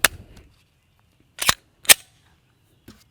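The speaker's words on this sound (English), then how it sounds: "We will shoot it here a little bit." A Glock 19 pistol fires three sharp, loud shots at uneven spacing, with a fainter pop near the end and short silent gaps between them.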